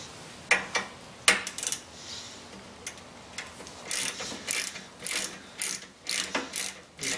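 A hand ratchet tightens install bolts to 15 to 18 foot-pounds, clicking in close, loud rapid bursts, a few scattered strokes first and then a steady run of repeated ratcheting pulls.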